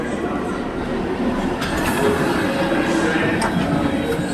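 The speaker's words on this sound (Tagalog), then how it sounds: "This is a Metropolitan Line train to Aldgate." A London Underground Metropolitan Line train at Finchley Road station gives a steady, loud low rumble with faint clatter and brief higher squeals, while people talk nearby.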